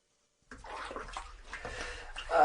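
Hot bath water filling or sloshing in a tub, a steady close splashing and gurgling that starts abruptly and grows louder toward the end.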